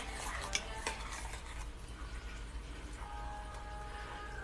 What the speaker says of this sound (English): I'm actually going to turn the heat off and I'm going to stir it for you guys.